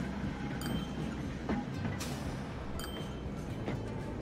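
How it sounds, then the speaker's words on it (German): Trams arrive at a station in the game Transport Fever 2, giving a steady rolling rumble with scattered clinks and metallic ticks. "Jetzt kommen hier zwar die Straßenbahn an."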